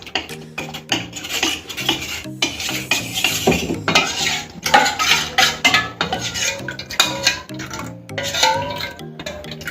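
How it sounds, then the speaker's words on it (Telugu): A spoon works through coconut pudding mixture in milk, with repeated close clinks and scrapes against a pot or bowl in an uneven rhythm throughout. "అందుకని ఇలా కలిపేసుకోవాలి"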